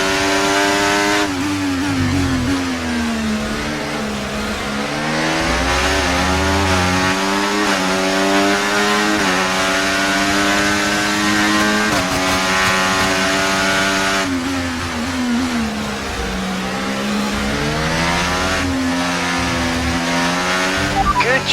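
Continuous loud Formula 1 race car engine in the F1 24 video game at Imola, its pitch climbing and dropping with gear changes and overtake boost throughout, without any talk.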